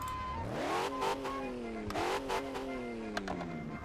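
A newly fitted car engine in Car Parking Multiplayer revs repeatedly, with rising and falling harmonic sweeps and short throttle blips, loud and close throughout with no speech.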